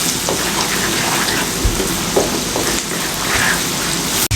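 Amla (Indian gooseberries) cooking with spice masala in a pan for an instant pickle, giving a steady, close sizzle and crackle that runs throughout with a few soft pops and a brief clatter near the end.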